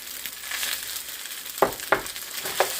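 Fried rice sizzles steadily in a pan as green onion goes in, with a soft continuous hiss broken by three sharper scraping stirs near the end.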